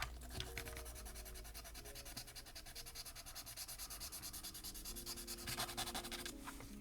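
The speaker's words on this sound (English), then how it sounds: "So we went ahead and got our pieces all sanded down." Plastic pieces of an AMT Enterprise NCC-1701-C model kit being sanded, a steady run of quick, short rasping strokes close by, with a few faint knocks and no talking.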